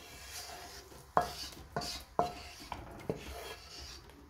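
A spoon stirs a sauce into a pot of Vietnamese meat broth, giving a few distinct scraping knocks against the pot at irregular intervals over a soft, low background. The knocks are close but faint.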